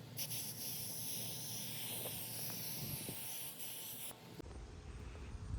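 Aerosol spray paint hisses steadily onto a cracked car bumper being repaired, one continuous close spray that shifts briefly near the end.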